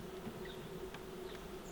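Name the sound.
bees buzzing at a wild hive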